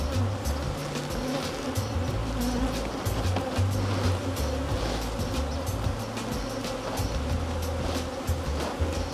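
Honeybees buzzing in a dense, continuous hum during a hive inspection, close and loud, with individual bees droning past, no talking.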